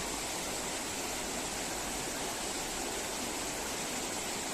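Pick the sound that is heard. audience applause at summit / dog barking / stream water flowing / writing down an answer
stream water flowing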